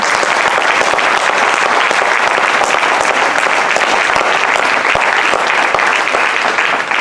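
A church congregation applauds loudly and steadily, a thick, continuous burst of many hands clapping close and full, with no talk over it.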